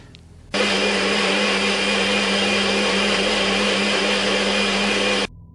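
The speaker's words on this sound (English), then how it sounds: "I'm going to blend up the mixture in the NutriBullet and make a lot of noise" A NutriBullet blender blending kimchi sauce gives a loud, steady roar that starts abruptly, runs continuously for several seconds, then cuts off, heard close by.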